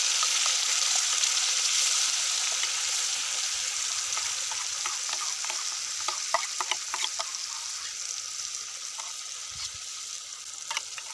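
Masala sizzling in hot oil for a spicy crab curry, a bright continuous frying hiss with scattered crackles and spatters, close up and with no talking.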